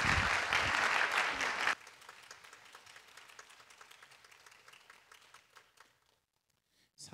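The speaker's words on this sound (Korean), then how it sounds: "나오실 때 우리 감사한 마음을 담아서 하나님께 영광의 박수 올려드리겠습니다" A church congregation applauds during a Sunday service, loud clapping from many people for under two seconds, then scattered softer claps that thin out into near silence.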